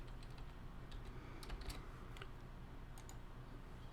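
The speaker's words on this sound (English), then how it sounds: "Having trouble typing today." Quiet typing on a computer keyboard while filling in a spreadsheet: a run of light, uneven key clicks and taps, close and soft, with no speech.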